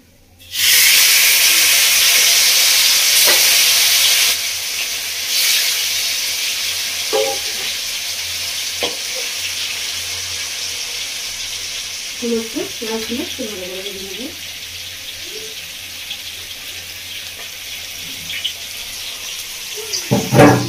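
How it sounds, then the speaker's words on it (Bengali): Pieces of katla fish frying in hot oil in a village-style kitchen: loud, dense hissing sizzle that starts abruptly and stays strong, easing slightly over time, with occasional clinks and brief background voices. "এখন আমি আরেকটা মাছটা ভেজে নেব"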